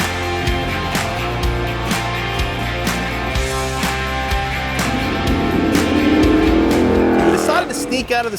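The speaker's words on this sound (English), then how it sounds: "We're taking the new Ford Bronco out in the canyon" A new Ford Bronco drives a canyon dirt road, its engine steady and close with tires crunching, then swelling louder near the end as it accelerates.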